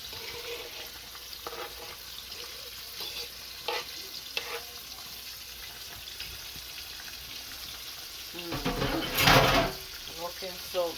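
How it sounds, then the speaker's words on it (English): Chicken fries in a pan in a home kitchen, a steady quiet sizzle with occasional stirring clatters and a louder burst of spitting near the end; a person talks at times. "I have some chicken frying there"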